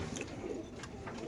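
Pigeons coo softly inside a loft, a faint, continuous murmur of low warbling calls with no pauses.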